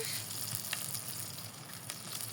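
Spices sizzle and fry steadily in a hot pan while being sautéed for a rui fish head bhuna curry, with a close, continuous crackle, a few soft stirring scrapes and no voices.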